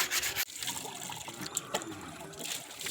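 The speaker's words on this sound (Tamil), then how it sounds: "தகுடில் தண்ணியை ஊற்றி கழுவிட்டு இருக்க." Water is poured over a metal sheet to wash it during house painting work, giving a steady close trickle and splash with rubbing scrapes, and one sharp drop in level partway through.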